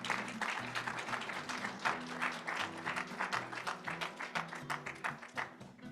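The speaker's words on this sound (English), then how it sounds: "Big round of applause," An audience at a poetry event applauds, a soft, quiet patter of many hands that pulses and gradually thins, with a low voice murmuring underneath.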